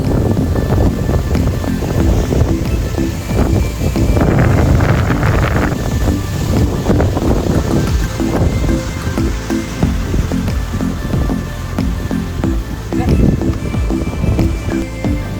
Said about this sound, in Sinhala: වතුර මේ ගහන උඩට ලොකු රැල්ල පාරක් වදින්න ඇතුළත අර ගහන වේගෙට මේ පින්නවගේ වතුර උඩට එනවා